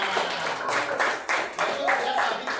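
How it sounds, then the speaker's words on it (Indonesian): A school class claps hands together for a classmate, a loose, moderately close patter of claps mixed with voices and chatter throughout. "Ya, tepuk tangan."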